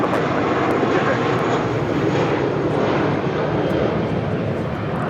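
A Spirit Airlines Airbus A320 taking off from LAX, a loud steady roar of jet engines at full thrust, close and continuous, with faint voices in the background.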